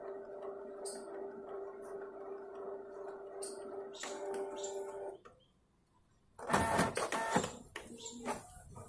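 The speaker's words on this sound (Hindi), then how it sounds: "आपको आवाज भी आ रही होगी प्रिंटर की।" Canon ink tank printer running: a steady motor hum with periodic clicks, a short quiet gap, then louder rattling and whirring as paper feeds through; someone talks over parts of it.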